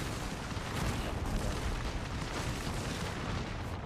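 A grenade blast in a multiplayer shooter game, used to boost a player: a dense, rumbling boom with a sustained low roar filling the short stretch, loud and close, with no talk over it.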